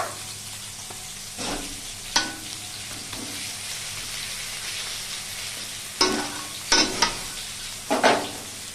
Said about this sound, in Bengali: ভালো করে আমি সমস্ত মশলা ভেজে দিচ্ছি।